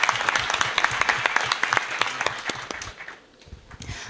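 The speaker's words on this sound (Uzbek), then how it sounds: "Olqishlab qo'yamiz Ahmad Temurov." An audience applauds at a comedy show in Uzbekistan, with dense, steady clapping that thins out briefly near the end before picking up again.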